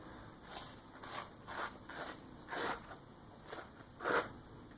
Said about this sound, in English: A damn sharp knife to make a proper cut in paper towel.